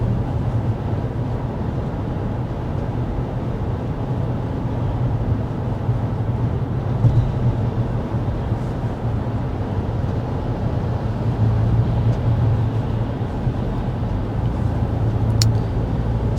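Steady low road rumble and engine hum fill a 2024 Toyota RAV4 cabin at 55 mph, constant and unbroken with no talking, fan on low, about 56 decibels.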